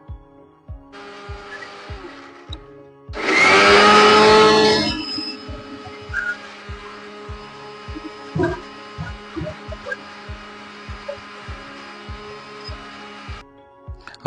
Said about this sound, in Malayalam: ഇതിനെ നല്ല പേസ്റ്റ് ആയിട്ട് അരിക്കണം ഫസ്റ്റ് മിക്സിയിൽ